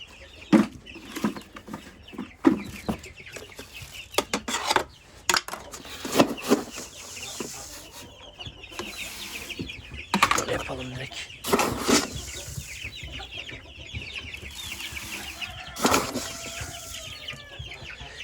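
Brahma chickens cluck and stir in a coop while feed is poured, with scattered wing flaps and scratching over a steady low farmyard background, and brief bursts of movement throughout.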